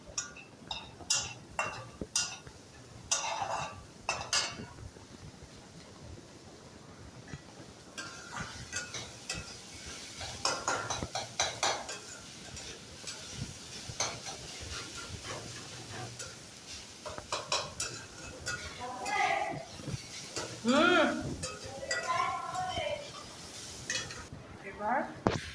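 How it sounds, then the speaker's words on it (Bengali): Banana stem frying in a pan, with a metal spatula scraping and clinking against the pan in irregular bursts over a soft sizzle, and brief voices in the background. "আর ওই পাশে আমাদের থোড় ভাজা হচ্ছে"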